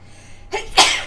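A single sudden sneeze, close and fairly loud, with a short breathy intake and then a sharp burst, heard alone with no talking.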